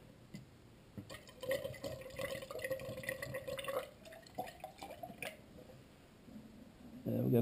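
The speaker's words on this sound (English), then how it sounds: "And we got the gulping sound. It's going somewhere." Car radiator coolant gulping and bubbling during bleeding, heard as irregular, faint, close liquid glugs and drips spread across the clip.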